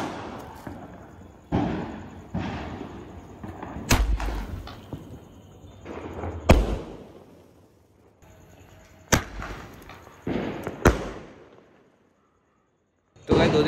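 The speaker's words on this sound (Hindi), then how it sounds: "तो गाइस अपन ने पटाखा लगा दिया है, अब इस पर मस्त ये लगाते हैं और देखते हैं भाई।" A series of sharp firecracker bangs pop at irregular intervals, each loud crack trailing off quickly, with brief silences between bursts.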